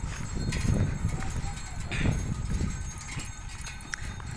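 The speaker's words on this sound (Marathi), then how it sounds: "हळूहळू बैलगाडी निवंतपणे चाललेली आहे" A bullock cart hauling sacks of harvested soybeans rolls slowly along a farm track, with a steady, irregular clatter of hooves and wheels close by under continuous outdoor noise.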